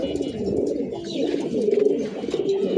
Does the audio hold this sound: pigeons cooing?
yes